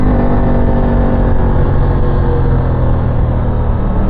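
An Aprilia Tuono 660 motorcycle engine revving, a loud, steady engine roar with a constant broadband rush, heard close and continuous from start to end without any voices.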